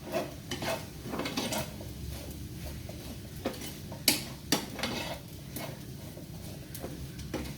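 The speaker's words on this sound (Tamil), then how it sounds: "இதுவும் ஆட் பண்ணிவிட்டு ஃபைனலி அதை நல்லா மிக்ஸ் பண்ணுறோம்" A spoon stirs chilli powder into a chickpea mixture in a pan, making soft scraping and occasional sharp clicks against the metal at a low, steady level, with no talking.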